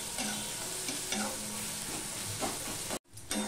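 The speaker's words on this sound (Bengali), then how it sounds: "পেঁয়াজটা অনেকটাই কমে গেছে আর লাল লাল হয়ে গেছে পেঁয়াজ ভাজাটা।" Onions frying in oil in a pan for a Bengali pabda fish curry, a continuous sizzle with rhythmic scraping stirs of a spatula, briefly cutting out near the end.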